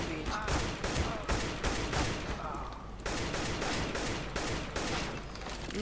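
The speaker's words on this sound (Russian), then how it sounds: "Например, вот сейчас я стрелял вот так вот." Rapid bursts of gunfire from a CS:GO match against bots, loud repeated volleys of shots in steady clusters with brief pauses, with someone talking over the shooting.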